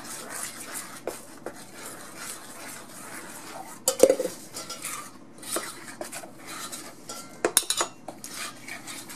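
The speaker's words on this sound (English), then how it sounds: "Now we'll work in our flour mixture." Flour mixture being stirred into batter in a bowl, a spoon scraping and clinking against the dish in an irregular rhythm with occasional louder knocks, close and moderately loud with no talking.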